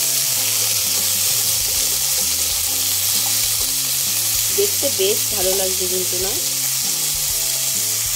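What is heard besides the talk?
vegetables frying in hot oil, spattering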